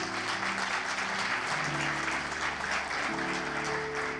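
A church congregation applauds steadily and loudly, a continuous wash of clapping over soft sustained keyboard-like tones in the background.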